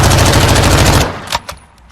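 Automatic gunfire from a tuned, low-recoil gun in Warzone 2: a loud, rapid continuous burst lasting about a second, then cutting off into a few scattered clicks and thumps.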